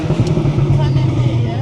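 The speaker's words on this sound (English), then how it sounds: "this car is ridiculously loud" Heavily modified Audi S3 engine and exhaust rumbling loud and close on a Paris street, a steady low drone throughout with voices talking faintly over it.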